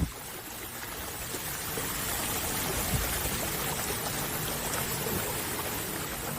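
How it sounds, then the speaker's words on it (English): An Aiper Scuba robotic pool cleaner skimming the pool surface and collecting grass clippings, heard as a steady close rush and trickle of moving water that runs continuously without a break. "Look at it here, skimming the pool, retrieving the grass clippings on the surface"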